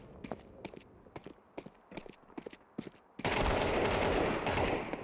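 Gunfire in a tactical shooter video game match comes as a string of sharp, irregular shots, then gives way to a loud sustained burst of noise in the final seconds.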